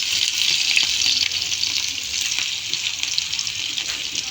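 A dish frying in a pan, with a steady, bright sizzle that stays loud and continuous from start to finish and has faint clinks under it.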